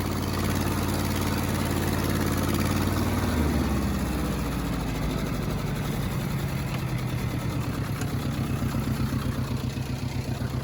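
A worn 1947 Ford 8N tractor engine idles close by with a steady low chugging, its pitch dropping slightly partway through before settling into an even, throbbing rhythm.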